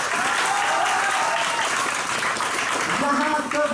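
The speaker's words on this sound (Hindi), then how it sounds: "वो जरूर तालियां बजाएंगे।" An audience at a school poetry recitation competition breaks into sustained, even applause, a thick wash of clapping holding at the same level from start to finish, with some voices under it.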